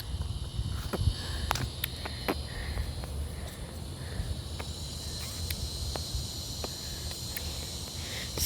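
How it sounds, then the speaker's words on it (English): Cicadas buzz loudly outdoors in a sustained high-pitched drone, with scattered clicks and rustles throughout. "Cicadas getting loud."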